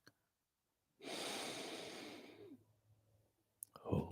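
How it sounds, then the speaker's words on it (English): A single slow, deep belly breath during guided meditation, a soft airy inhale-exhale drawn out over about a second and a half, close and quiet, followed by a faint click and a brief voice. "Belly breathing."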